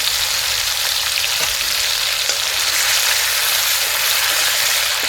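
Cumin seeds and green chillies frying in hot oil for a kadhi, giving a loud, continuous close-up sizzle that stays steady throughout, with no voices.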